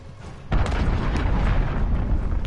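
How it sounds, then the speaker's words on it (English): A heavy cruise missile impact in Call of Duty Modern Warfare, a sudden loud boom followed by a sustained rumbling roar that stays strong for about two seconds. "Allied cruise missile launched."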